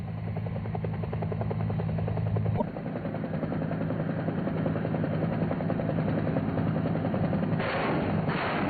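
A minigun on a UH-1 helicopter lets out a loud, continuous buzzing burst for a few seconds, then cuts off, leaving the heavy thrum of the helicopter's rotor and engine running on alone.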